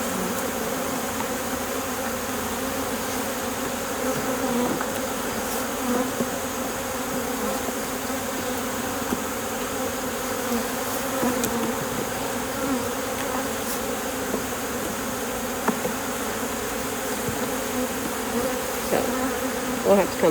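Honeybees swarm around double-deep beehives, a dense, continuous buzzing drone that stays loud and even throughout, with no pauses and only occasional faint knocks beneath it.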